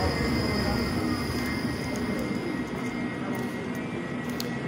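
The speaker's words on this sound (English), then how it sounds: "You have one tram coming, then you have another." Modern air-conditioned city tram in Bratislava arriving on a street, a steady loud rumble and rolling drone with faint high squeal, continuous throughout, with no speech.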